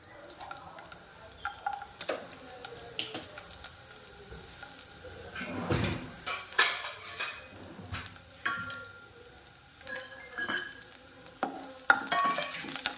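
Chopped garlic frying in oil in a pan for lasuni methi, an irregular crackle and sizzle with bursts of stirring and scraping, fairly quiet and close.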